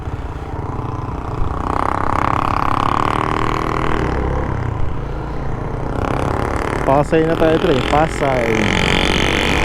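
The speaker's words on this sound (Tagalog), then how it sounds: "Sakit sa tenga yung ano, motor na yun ah." A loud motorcycle on a road with traffic and no stoplights, its engine roar rising and passing close by while riders talk over the steady wind and engine noise.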